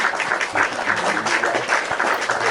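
Church congregation claps during a livestreamed worship service, a short run of steady, somewhat rhythmic group clapping, close and moderately loud, with faint voices underneath.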